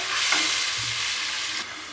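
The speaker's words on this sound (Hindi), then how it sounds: "शोरबे को हम अच्छे तरीके से मिक्स कर लेते हैं।" Curry gravy for chana dal koftas being stirred in a pot, a steady close scraping and swishing over a soft simmering sizzle that continues without pause.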